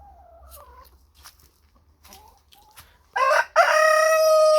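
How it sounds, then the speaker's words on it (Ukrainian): A rooster crows loudly nearby after a few quiet moments of faint background clucks and sounds, the call rising and holding strong. "щось півень дуже сьогодні розкукарікався."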